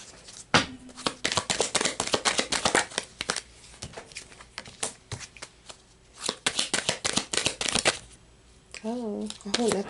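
Tarot cards are shuffled by hand in quick riffling bursts, crisp and close, broken by short pauses, with someone talking quietly between and over the shuffles.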